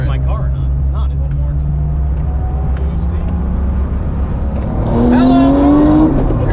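A car engine drones low and steady on the street, then revs up sharply with rising pitch as it drives close past, with people talking over it.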